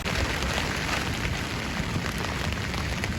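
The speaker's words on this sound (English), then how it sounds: "rain everywhere else, as you can hear" Rain falls at the beach in Caister-on-Sea in February as a steady, dense hiss with no breaks, fairly close and even throughout.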